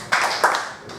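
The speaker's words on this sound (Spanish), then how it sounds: "Un aplauso para Marta." Audience applause for a participant at a real estate contracts presentation, a short burst of clapping from several people nearby, rising twice in quick succession and fading within a second.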